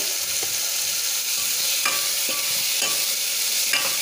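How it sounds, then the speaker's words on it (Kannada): Spices frying in oil for jeera curd saaru, a bright continuous sizzle with periodic scraping strokes of a spoon stirring the pan, close and steady without speech. "ಇದನ್ನು ಚೆನ್ನಾಗಿ ಫ್ರೈ ಮಾಡ್ಕೊಳ್ಳಿ ಫ್ರೈ ಹಾಕ್ತಿದೆ"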